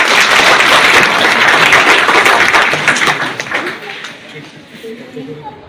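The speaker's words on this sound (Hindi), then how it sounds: "सब लोग एक ताली बजाइए" A hall audience at a talk on avoiding online fraud claps loudly for about three seconds. The applause then thins and fades into scattered claps and murmuring voices.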